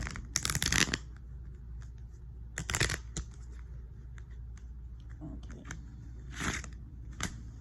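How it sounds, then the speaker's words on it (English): Tarot cards shuffled by hand in a few quick riffling bursts, crisp and close, with softer card taps between them and a brief spoken word. "It's kind of hard to shuffle these cards sometimes. I'm gonna keep shuffling."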